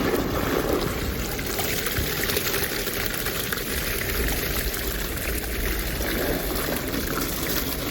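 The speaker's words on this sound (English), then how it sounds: "Make sure you wash that off real good. Got everything going into the bucket." Steady, loud rush of running water rinsing gold-panning material into a bucket outdoors, continuous and close without a break.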